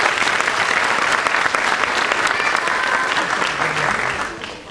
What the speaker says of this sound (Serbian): I jedan veliki aplauz za Vezijaka Viktora